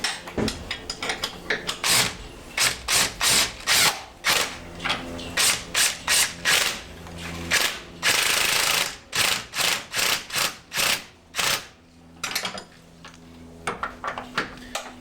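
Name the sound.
ratchet tightening bolts on a lowered Jeep YJ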